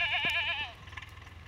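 Goats bleating on a farm, one wavering, quavering bleat close by that fades into a softer, shaky tail with a faint background hum.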